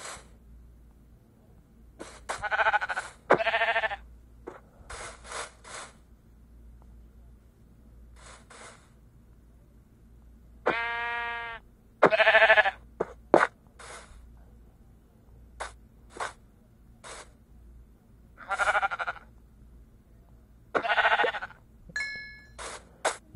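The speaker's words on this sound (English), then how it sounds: "Here's another sheep." Several short sheep bleats from Minecraft: Pocket Edition sound at intervals between quiet gaps, some with a wavering pitch, mixed with brief dings and clicks.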